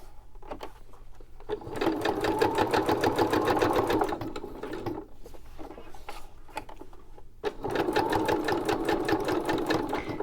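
A sewing machine stitches around corners of fabric tags in two rapid, rhythmic runs, each a couple of seconds long, with a quieter stop-and-start passage between them, close and alone.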